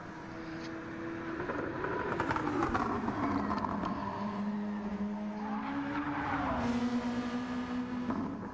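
A touring race car in a racing esports game runs a top-ten shootout lap at the Kyoto track, its engine droning loudly and continuously, the pitch rising and falling through gear changes and corners.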